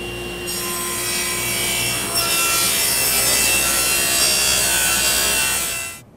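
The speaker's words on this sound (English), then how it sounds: "first thing we're going to do is cut a 45-degree bevel on this edge" A table saw slices a 45-degree bevel along the edge of a wooden board, a loud, steady whine and rasp that holds for about six seconds before fading out.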